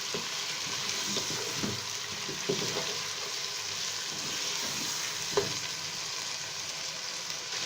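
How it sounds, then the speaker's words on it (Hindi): Chicken and onions fry in oil for a spicy Lahori chicken pulao, a steady close sizzle with occasional stirring clinks and scrapes, no talking. "चिकन को फ्राई होते हुए 5 मिनट हो चुके हैं।"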